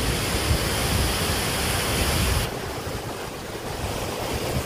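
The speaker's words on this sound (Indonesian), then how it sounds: "Lihat ini ombaknya ini." Ocean surf breaking on the beach at Holtekamp, Jayapura, a continuous loud broadband wash of waves with no talk, easing slightly midway as one wave recedes.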